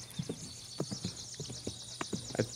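Horse hooves clip-clop in an uneven, repeating rhythm as a podcast sound effect, each hoof strike a distinct knock close by over a faint high background tone.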